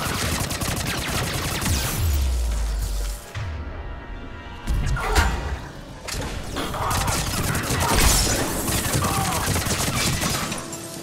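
Rapid-fire Tempest submachine gun shots in Mass Effect 3 sound in dense, continuous bursts with brief pauses, loud and close, and the crackling volleys run almost the whole time.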